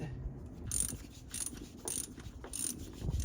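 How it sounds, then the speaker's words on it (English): A ratcheting breaker bar being worked on the rusty bolts of an old Toyota FJ40, giving soft repeated clicking ratchet strokes in a few short bursts, close but fairly quiet, with no talk. "this really nice breaker bar that's on a ratchet"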